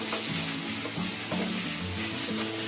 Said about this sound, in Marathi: आता चांगली ढवळून घेते बघा